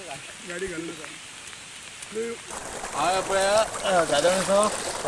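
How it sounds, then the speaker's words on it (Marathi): A heavy rain shower in Goa, with roads flooded, makes a steady broadband hiss while people talk over it, and the downpour grows louder in the second half. "पळयात पावसाचो सावार।"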